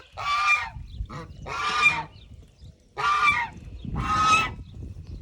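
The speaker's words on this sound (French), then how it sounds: "Au printemps, c'est la période où les jars sont très agressifs" Four loud, harsh honks in bursts from a gander during spring breeding season, close by, with gaps between them and low rustling noise underneath.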